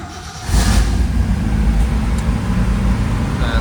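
A 1968 Ford Mustang Shelby Cobra GT500 convertible cold-starts on high choke, its engine catching after a brief moment and settling into a loud, steady, close-up rumble.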